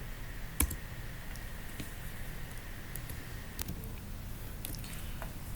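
A computer keyboard is used while working in AutoCAD Civil 3D, with one sharp, close key click early on and a few lighter clicks and taps after it against a quiet room background.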